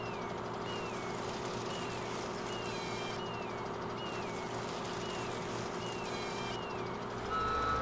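A wheel loader in Farming Simulator 17 sounds a repeating electronic reversing beep over a steady engine hum. The beeps come in regular evenly spaced pulses at moderate volume, and no one talks.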